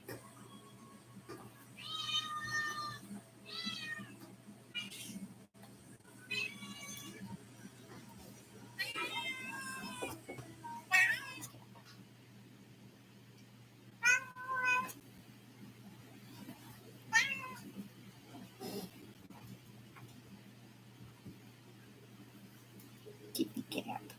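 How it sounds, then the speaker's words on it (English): A cat meows repeatedly in short, clear calls spread across the clip, some drawn out and wavering, with quiet speech between them and a low steady hum underneath. "Kitty cat."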